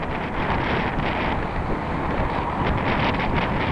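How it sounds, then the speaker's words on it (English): Strong wind buffeting a microphone while cycling along a waterfront trail, a loud, continuous rushing roar that swells and eases slightly, with no talk. "there's quite a wind coming from the west"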